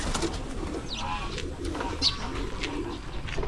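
Pigeons cooing in a loft, a soft, steady murmur of repeated coos over a dull background with no talking.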